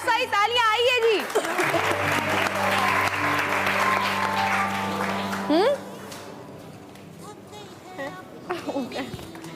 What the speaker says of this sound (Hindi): तो एमन और मनाल के लिए बहुत सारी तालियां आई है जी